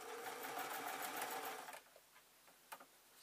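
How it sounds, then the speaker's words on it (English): A domestic sewing machine runs in a steady, fast stitching burst for under two seconds, then stops, followed by a few faint clicks and handling taps. "I'm going to do is go forward, go backwards, and then I am going to stitch and turn the top one round"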